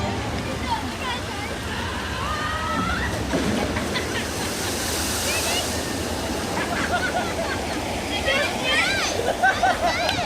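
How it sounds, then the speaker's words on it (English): Rushing, sloshing water from the Policy Pond Sawmill log flume ride at Canobie Lake Park, a steady wash of spray and splashing with a few brighter surges, with crowd voices and chatter mixed throughout. "So here it is, the Policy Pond Sawmill log flume."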